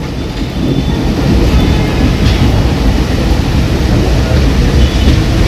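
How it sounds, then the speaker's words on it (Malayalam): A train at platform one of Kozhikode railway station, a large station in Kerala. A loud, steady rumble of rolling carriages and wheels fills the whole span without pause. "ഇത് ഒന്നാമത്തെ പ്ലാറ്റ്ഫോമിലാണ് ഈ ഒരു ട്രെയിൻ വന്നത്"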